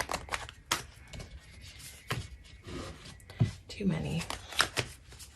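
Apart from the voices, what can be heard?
tarot cards being shuffled and drawn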